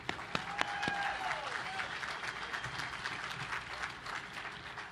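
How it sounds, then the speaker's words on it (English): Applause from the audience at the commissioning ceremony of the navy destroyer USS Jack H. Lucas (DDG 125), a steady crowd clapping that holds evenly through the whole stretch, with a few sharp louder claps near the start. "Big round of applause."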